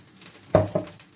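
Vegetables hitting hot oil in a frying pan for Asian-style stir-fried noodles, two quick loud sizzling bursts close by that fade into a soft crackle, with no voices.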